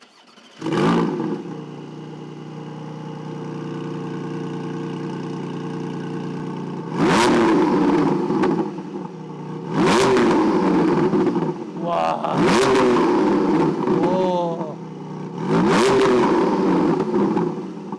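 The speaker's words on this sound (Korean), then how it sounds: "배기음 좀 한번 들어볼까?" Loud revs from a Porsche Boxster 4.0 GTS flat-six boxer engine in repeated bursts, each roaring up and dropping back, with excited voices reacting between them.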